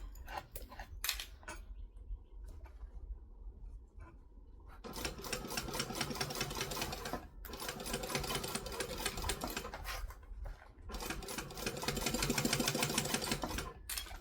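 A sewing machine stitching fabric for a kangaroo sewing project runs in loud, rapid, steady bursts close up, broken by brief pauses and quieter handling sounds, with no talking.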